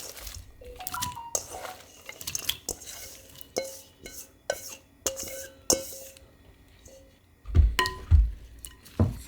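Buckwheat batter is stirred gently by hand in a bowl, with soft wet squishes and intermittent light clinks of the utensil against the bowl, a few louder thumps near the end.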